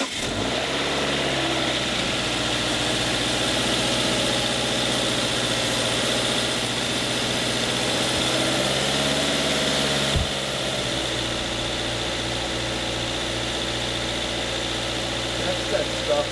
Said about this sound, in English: let the engine heat up, and once the thermostat opens and starts circulating